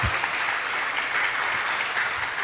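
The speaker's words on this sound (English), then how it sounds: "let's put a round of applause for Mahatma Prabhu for such a wonderful day one workshop" Audience applause for Mahatma Prabhu at the close of a day-one japa workshop in Toronto: a steady, dense wash of clapping from a gathered crowd, even and sustained throughout.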